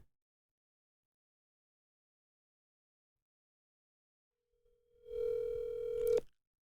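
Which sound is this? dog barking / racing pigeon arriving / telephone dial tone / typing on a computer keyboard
telephone dial tone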